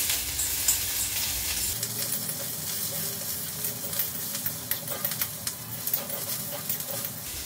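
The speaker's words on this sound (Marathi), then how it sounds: "आपला कांदा थोडा लाल झालाय, आपण त्यामध्ये घालूया आल्याचे तुकडे आणि लसूण। आपल्याला भाजून घ्यायचं।" Ginger pieces and garlic fry in a pan with onion already browned, giving a soft continuous sizzle broken by light crackles and small stirring sounds, fairly quiet and close, with no speech.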